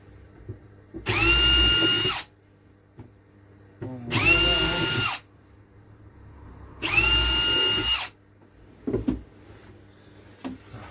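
Three separate bursts of a power drill whining at full speed into pallet wood, each lasting about a second, with quiet gaps and a few small knocks in between.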